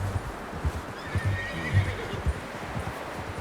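A horse in Red Dead Redemption 2 whinnies with a shaky, drawn-out neigh over soft hoof clops and low rumbling movement, fairly close and moderately loud.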